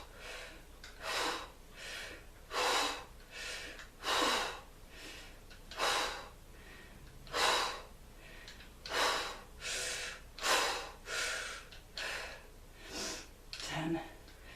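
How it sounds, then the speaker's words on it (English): Heavy, rhythmic exhalations during a strength-training weight lift, each forceful breath out coming roughly every second and a half. The breaths are close to the microphone and keep a steady pace. "I'm not holding my breath. I'm breathing out when it comes up"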